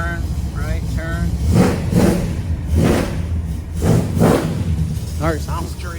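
A 1970 Pontiac GTO Ram Air III engine revs in several strong surges, each swell rising and falling, with a voice talking briefly at the start and end.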